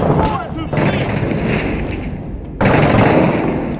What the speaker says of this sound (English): It's another AAV gunshot.